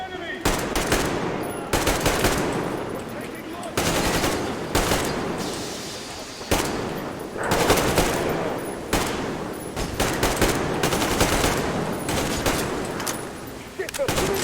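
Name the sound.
enemy gunfire in the video game Metro Exodus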